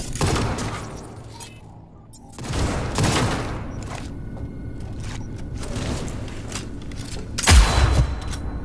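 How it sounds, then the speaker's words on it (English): Gunfire in Cyberpunk 2077: bursts of shots and loud impacts, with a quiet lull in between, then a heavy boom near the end, mixed with game effects and faint voices. "I'm taking fire!"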